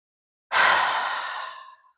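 A single slow, breathy exhale released through the mouth after a deep yoga inhale, close and fairly loud, starting abruptly and fading over about a second and a half, with no talk.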